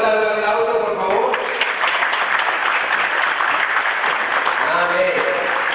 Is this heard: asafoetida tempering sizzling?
no